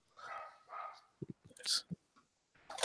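A dog upstairs in a house gives a few short, muffled barks and yips, distant and intermittent, mixed in among a person speaking nearby.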